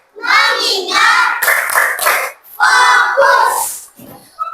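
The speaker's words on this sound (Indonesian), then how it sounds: "Coba tepuk fokus" In an Indonesian classroom, a group of children shouts a chant in chorus, punctuated by brief rhythmic hand claps, ending on a quieter stray voice.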